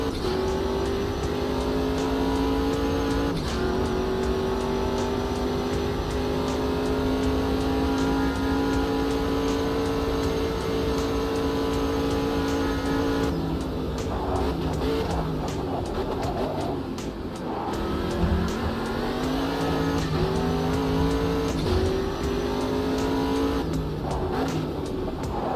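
Race car engine in a racing video game, droning loudly and continuously with rising and falling revs through gear changes, including a sharp lift-off and re-acceleration partway through, with no talking.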